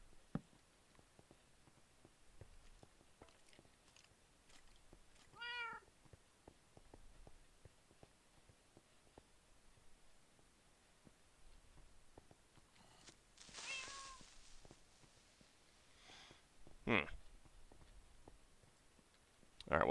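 A Minecraft cat gives a few short, faint meows against quiet game sounds, with scattered clicks and a brief louder burst later on.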